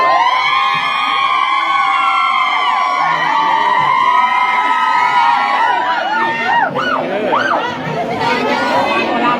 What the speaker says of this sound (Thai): ส่งเสียงกรี๊ดให้แฟนคลับชาวไทยด้วย